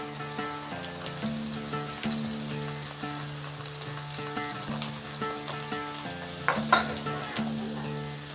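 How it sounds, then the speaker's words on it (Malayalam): Soaked sabudana (tapioca pearls) sizzles and crackles steadily in a hot pan while being stirred, a close, continuous frying hiss with a few louder pops near the end. "ഇതിലേക്ക് നമുക്ക് കുതിർത്തി വെച്ച ശൗവരി ഇതിലേക്ക് ഇടാം."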